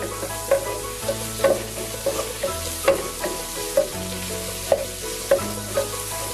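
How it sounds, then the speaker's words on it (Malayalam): Sliced onions sauté in a hot pan for a chicken thoran, with a steady sizzle under regular scraping spoon strokes, close and fairly loud, no voices. "നന്നായി അങ്ങ് ഇളക്കി യോജിപ്പിച്ചിട്ട് നമുക്കത് നന്നായിട്ട് അങ്ങ് വാട്ടിയെടുക്കണം."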